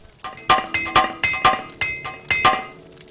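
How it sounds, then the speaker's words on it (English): An apprentice armorer's hammer repairing gear in Morrowind strikes in a steady run of about eight loud, ringing metallic clinks, evenly spaced and close, with no talk. "apprentice armorer's hammer. I'll take that. I'll use that immediately, actually."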